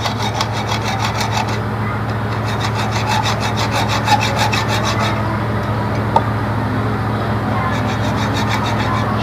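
A saw cuts a slot into a fitting on a motor-scooter body so a screwdriver will fit, in steady back-and-forth strokes with short pauses between bursts, close and clear over a constant low machine hum.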